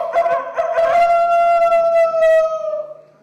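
A person imitating a rooster crowing in a long, rising then sustained, nasal vocal call that fades at the end, loud and close with no other sound.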